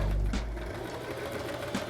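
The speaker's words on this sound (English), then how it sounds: "All I'm doing is inserting the fabric into my sewing machine." A sewing machine stitches pillow fabric with a 5/8 inch seam allowance, running steadily with a continuous close mechanical whir and faint periodic clicks, no talking.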